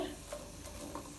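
Boiled chicken and peas stir-fry in a pan over a medium-to-low flame, giving a soft, faint sizzle with light scraping of stirring.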